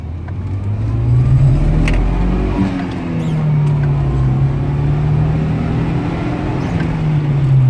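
A turbocharged car with a newly installed boost controller accelerates on a closed road, its engine droning loudly with a rising, then dipping, then climbing pitch as it pulls through the gears.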